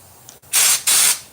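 Two loud, broad hissing bursts of about a third of a second each from an air spray gun at 90 PSI applying WoolWax under a 1963 Impala, close by with a brief pause between them.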